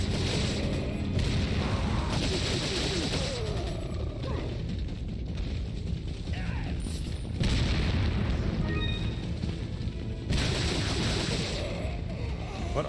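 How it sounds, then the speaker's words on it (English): Repeated deep booms and blasts from explosions in the video game Resident Evil 4, coming in loud bursts over a dense rumbling game soundtrack, with a voice talking at times. "What are these explosions, and why are they happening?"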